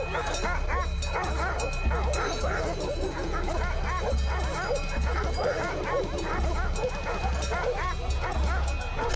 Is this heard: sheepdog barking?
yes